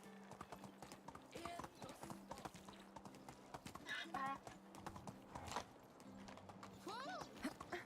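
Horse hooves clip-clop at a steady galloping rhythm in the medieval survival game Medieval Dynasty, with occasional snorts over the beat and someone talking intermittently above it.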